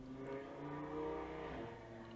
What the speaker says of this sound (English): We have our required episodic loud car go past.